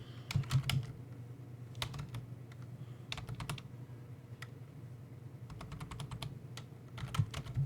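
Computer keyboard typing in a Linux terminal, with bursts of crisp keystroke clicks in clusters separated by short pauses, close and clear over a faint room hum.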